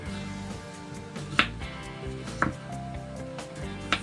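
A knife cuts peeled, rinsed potatoes into cubes on a board, three sharp distinct chops spaced about a second apart, close and fairly loud over a quiet kitchen hum.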